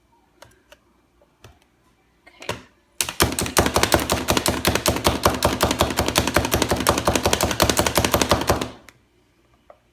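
An egg slicing machine cuts through a whole egg with a rapid, even burst of clicking clatter that runs for about six seconds at close range, preceded by a few soft taps and a short rustle.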